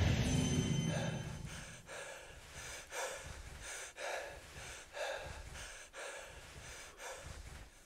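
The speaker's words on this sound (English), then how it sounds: "I don't like the breathing." A creature in the horror video game The Beast Inside breathes in slow, heavy, rhythmic cycles. Rasping inhales and exhales repeat about once a second, close and fairly quiet, with no talking.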